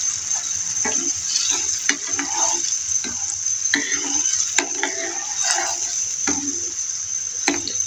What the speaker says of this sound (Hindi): इसमें देखें बॉयल आना स्टार्ट हो गया है।